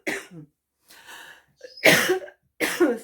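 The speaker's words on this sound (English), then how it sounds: "I still have a bit of a cough." A person coughing several times in short bursts, close and fairly loud, with quiet gaps between the fits; no talking.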